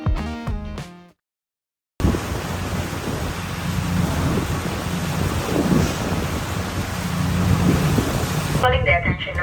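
Steady roar of wind and breaking waves aboard a sailing ferry between Batangas and Cebu, loud and broad, after a short burst of voice and a moment of silence, with sound shifting again at the end.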